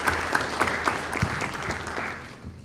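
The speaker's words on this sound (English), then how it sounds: "I want to, yes, round of applause." A city council meeting audience in Norwalk applauds: a steady round of clapping with distinct individual claps over a moderate wash, holding evenly for a few seconds with no talking.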